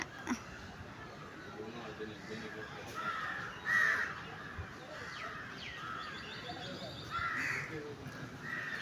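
A crow caws outdoors in a few short, harsh bursts at moderate distance, first near the middle and again toward the end, over a soft, steady background hiss.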